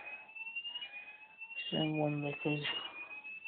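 A Gent smoke detector system in alarm gives a steady, high-pitched electronic tone throughout, while someone speaks briefly nearby over it.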